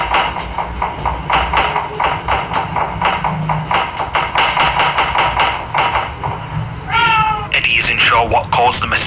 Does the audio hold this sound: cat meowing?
yes